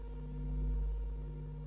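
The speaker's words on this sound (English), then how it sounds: "That's our 5-minute countdown, boys and girls." Phone countdown tone marking five minutes, a steady sustained electronic beep with layered pure pitches that swells slightly and holds for under two seconds over a low hum.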